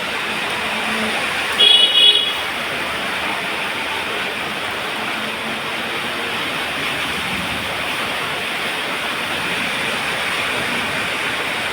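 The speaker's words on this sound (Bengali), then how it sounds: "তার সঙ্গে মেঘ ডাকা বাপরে বাপ বিদ্যুৎ চমকানো ভোর পাঁচটার সময়কার অবস্থাটা তোমাদের একবার দেখাই" Heavy rain pours down at dawn, caught on a phone as a steady, dense roar of falling water, with a brief louder burst near the start and no talking.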